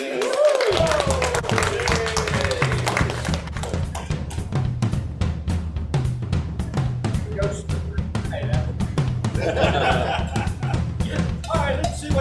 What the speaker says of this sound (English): please give a warm round of applause to Lisa